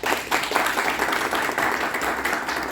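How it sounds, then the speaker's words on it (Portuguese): Applause from a conference audience welcoming a speaker at a congress on technology and human dignity, a continuous wash of many hands clapping, fairly loud and reverberant, with no talk over it. "Vamos recebê-lo com uma salva de palmas"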